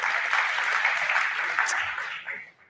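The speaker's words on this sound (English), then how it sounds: "So maybe a round of applause for that." Audience applause at a climate resilience panel discussion, a dense, even burst of clapping that holds steadily before tapering off toward the end.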